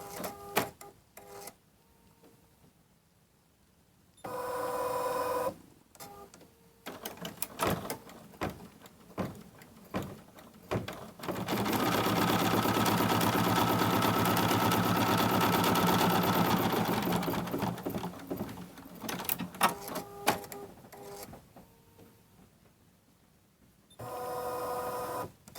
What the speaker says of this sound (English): Now the machine is going to go around the batting twice to make sure that it's tacked down well